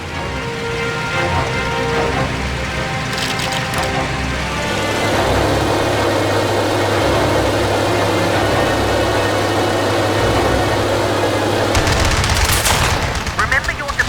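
Aircraft machine guns chatter in the Heroes over Europe air-combat game, sustained and loud over a droning engine hum, with a brief voice in the mix.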